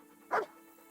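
One short dog bark from Kingdom Come: Deliverance, a single sharp woof at close range above a faint steady hum, with nothing after it.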